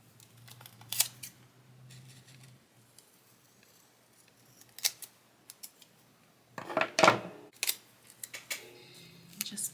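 Scissors snip a planner sticker for a B6 Sterling Ink Common Planner, several short crisp cuts in close bursts with quiet pauses between them and soft paper handling.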